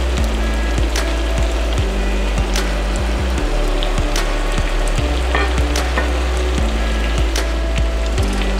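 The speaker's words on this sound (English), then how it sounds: "We use butter to sauté it." Salmon and onion sauté in butter with a dense, steady sizzle and crackle, punctuated by repeated wooden stirring knocks and scrapes at a fairly regular pace, close and loud.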